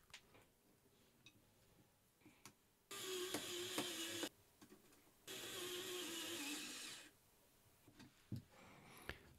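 Insulation is stripped off an electrical cable in two harsh bursts of scraping and rasping, about a second and a half each, separated by quiet clicks and small handling noises.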